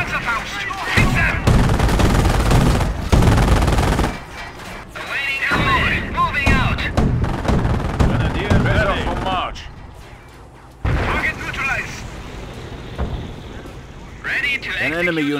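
Gunfire and explosive weapon blasts from the WWII strategy game Company of Heroes, a dense, loud barrage with bursts of shots and booms, game voices calling out over the combat.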